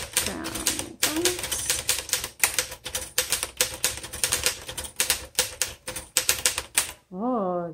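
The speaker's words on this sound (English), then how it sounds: "let's actually type a sentence out and see what that does" A 1928 Royal 10 antique manual typewriter types out a sentence: rapid, loud, crisp key strikes in an uneven rhythm, a short pause, then a carriage bell-like ring and return at the end. A voice speaks over the typing.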